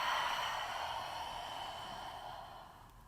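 A long, soft sigh-like exhale through an open mouth during a gentle yoga session, close and quiet, fading gradually over about three seconds.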